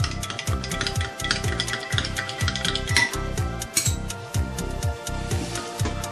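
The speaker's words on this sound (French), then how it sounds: "je mélange le tout" Yogurt, warm water and baker's yeast get stirred together in a bowl with a utensil, a steady run of rhythmic scraping and clinking strokes, close and fairly loud, repeating roughly every half second with no talking.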